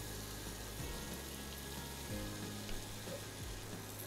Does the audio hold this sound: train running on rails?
no